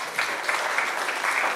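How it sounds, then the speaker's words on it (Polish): Brief burst of audience clapping at a community health-and-fitness event, dense and steady with a slight swell, heard alone for a second and a half. "Dziękujemy, jeszcze raz gorące brawa."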